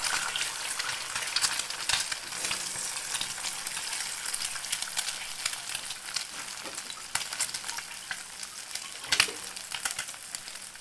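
Cooked rice fries with egg in a pan, giving a continuous crackling sizzle with scraping stir strokes and occasional sharper pops, steady and close.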